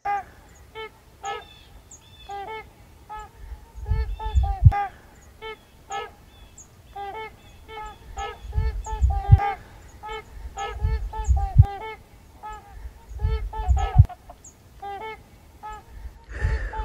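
Trumpeter swans call repeatedly at Rice Lake National Wildlife Refuge, bugling honks from several birds ringing out over open water in a steady, overlapping series, with occasional low thumps and rumbles nearby.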